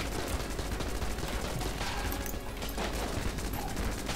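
Rapid continuous gunfire from a bottomless-magazine gun in the video game Enter the Gungeon, a dense unbroken stream of shots at steady moderate loudness with no talk over it.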